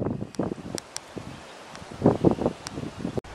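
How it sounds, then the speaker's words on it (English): Wind gusts through the leaves of a spring pine barrens forest beside a grassy pond, coming as soft, uneven rustling swells. The rustling builds to a louder surge partway through and then eases off. "Wind's picking up now, I notice."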